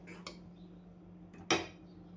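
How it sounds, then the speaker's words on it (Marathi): A metal lid is set on a pot of aamti, Akkalkot annachatra-style prasad, simmering on a low gas flame. Two brief clinks ring out, a light one first, then a sharper, louder clank near the end, in a quiet kitchen. "झाकण ठेवलं."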